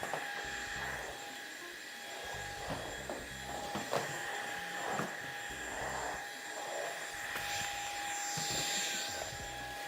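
A vacuum with a metal filter sucks up aluminum chips and shards, giving a steady motor whine and roar, with scattered rattling clicks of metal bits throughout.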